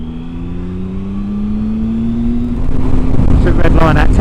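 A Triumph Sprint ST1050 motorcycle engine revving up toward its 10,000 RPM redline in third gear, pitch climbing steadily and growing louder with rushing wind noise near the end, close to the rider.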